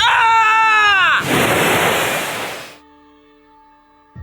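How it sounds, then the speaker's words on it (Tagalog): Crashing ocean wave sound effect in a dramatized Filipino horror story: a loud screaming voice cuts into a roaring broadband wave burst that fades away over about a second and a half. "malakas na hampas ng alon"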